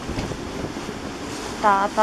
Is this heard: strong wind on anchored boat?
yes